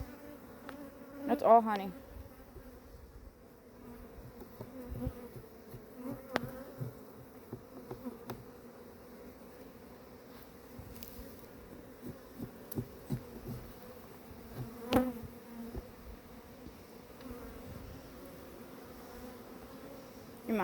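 Honeybees hum softly around an open beehive frame full of honey, a faint continuous drone with scattered clicks and handling bumps while someone speaks now and then.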